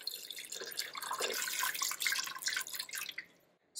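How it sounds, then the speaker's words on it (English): Water pours and trickles into an Instant Pot over dried garbanzo beans, a steady splashing stream that runs for several seconds and then stops abruptly, with no talk over it. "And now pour water till your garbanzo beans are soaked."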